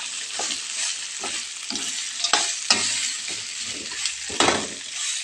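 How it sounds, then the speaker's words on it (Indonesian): Mouse deer meat with lemongrass frying in a pan, loud close sizzling broken by repeated scrapes and clinks of a spatula stirring, several sharp knocks near the end, no talking. "dikasih serai, kemudian masukkan masukkan daging kancilnya, baru kita aduk merata."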